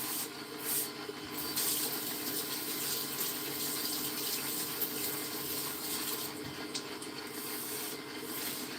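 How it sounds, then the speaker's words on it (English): A kitchen tap runs water steadily for hand washing, a continuous hiss at moderate level with some faint rubbing and splashing, and no talk. "let me just wash my hands too"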